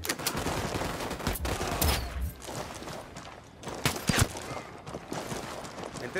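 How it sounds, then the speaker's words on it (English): Rapid bursts of automatic gunfire in the video game Ghost Recon Wildlands, loud overlapping shots in clustered volleys with sharp peaks and brief lulls between them. "Opening fire on these fuckers."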